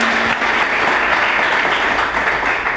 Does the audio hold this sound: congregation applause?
yes